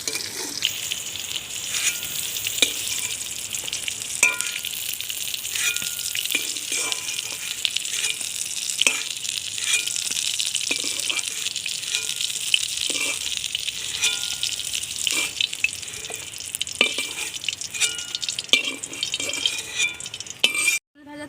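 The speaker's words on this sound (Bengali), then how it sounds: "এবার পটলগুলো আমি লাল লাল করে ভেজে নেব" Pointed gourd (potol) frying in hot oil in a home kitchen, a steady bright sizzle running unbroken for about twenty seconds, with occasional soft clinks from stirring and no one talking.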